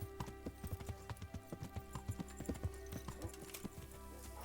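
Horse hooves clip-clop in the game Kingdom Come Deliverance, a steady even walking rhythm of close, crisp hoof strikes over a low ambient hum.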